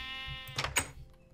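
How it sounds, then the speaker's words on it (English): Sheep bleating in Minecraft, a couple of short wavering bleats at moderate distance rising over a steady hum of game tones, with no talk. "Baby sheep is outside. What's he doing? He wants in."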